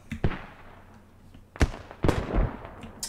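Explosions from blowing up a logistics point in a video game: several sharp, booming blasts in an uneven rhythm, with rumbling tails and smaller pops between them.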